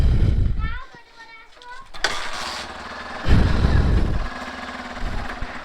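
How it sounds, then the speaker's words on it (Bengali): A motorcycle, dusty and being taken out for the first time that day, is kick-started: a sharp mechanical clack and cough, then a rough engine sputter, with voices, including a child's, talking nearby. "আজকে বাইক প্রথম বের করলাম, ওই জন্য কিক স্টার্ট দিই।"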